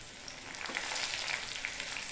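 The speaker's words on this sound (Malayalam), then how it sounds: "ഒന്ന് ചെറിയ ഉള്ളി നന്നായി പൊരിഞ്ഞു വരണം" Small onions (shallots) frying in oil for a Kerala fish curry, giving a steady soft sizzle with faint crackles, brief and fairly quiet.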